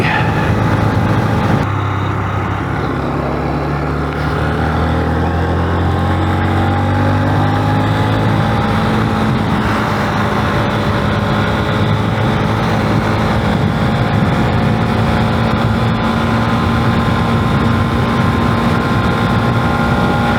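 A 2023 Honda motorcycle on stock gearing accelerates at speed toward 110. The engine drones loud and close, its tone climbing through gears, and wind rush continues throughout.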